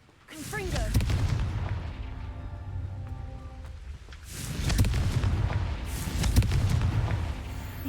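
A Confringo blasting spell explodes in the Hogwarts Legacy video game, with deep rumbling booms that swell and fade, then two more blasts in close succession, all under game ambience.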